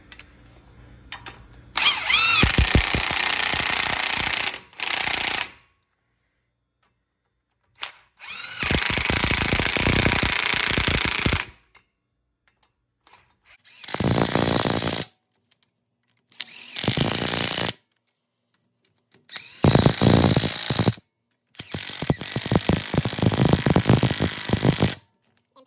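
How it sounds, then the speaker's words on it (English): A power tool, drill-like impact driver tightening wheel adapters and lug nuts on a truck wheel, running in several loud bursts of a few seconds each, separated by short silences, with no talk. "So we'll go ahead and get that wheel and everything tightened down, put that wheel on"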